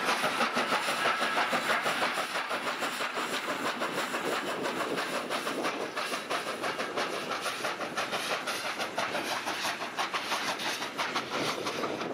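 A coal train rumbles steadily along the rails at Sandaoling, China, with a continuous rolling roar and faint clatter, fairly distant, no voices.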